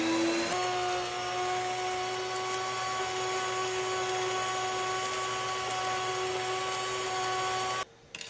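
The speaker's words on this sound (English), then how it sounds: "All done grinding the grain, the noise is done." A Nutrimill grain mill grinding wheat berries gives a loud, steady motor whine with a high tone, running without a break and then cutting off abruptly near the end.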